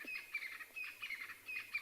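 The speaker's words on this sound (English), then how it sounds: "we've got some crested francolin making a heck of a racket" High chirping bird calls repeat in short bursts over a faint, distant background chorus, quiet and outdoors.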